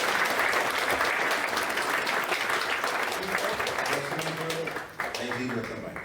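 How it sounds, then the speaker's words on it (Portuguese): A church congregation claps to welcome visitors, steady crowd applause that fades slightly toward the end as a voice begins speaking underneath. "Eu gostava que nós dessemos uma salva de palmas às nossas visitas."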